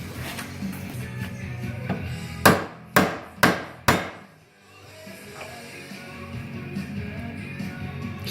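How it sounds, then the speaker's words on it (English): A hammer knocks out a Jeep JK ball joint during an upper and lower ball joint rebuild with a Dynatrac kit. Four loud, sharp metallic blows land about half a second apart, then fall quiet. "Then hammer that baby out."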